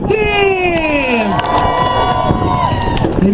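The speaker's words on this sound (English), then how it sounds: "So let's hear a cheer for the blue team!" Crowd at the Round Lake Beachfest 2012 cheering for the blue team, a loud, close mass of whoops and shouts with children's high voices rising and falling over a steady roar.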